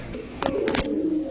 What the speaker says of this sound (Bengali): এই যে দেখেন কবুতরটা, মাশাআল্লাহ, ডাক আছে